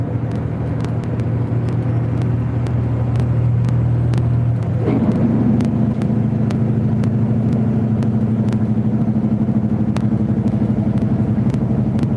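A loaded truck rolls northbound on the I-35 highway in Minneapolis, its engine a loud, constant low rumble with a shift in pitch partway through and faint rhythmic ticking over the drone.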